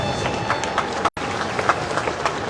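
Crowd applause rings out along a lock as an Ultim trimaran heads out for the race start, a steady dense wash of clapping with a brief dropout midway and some voices mixed in.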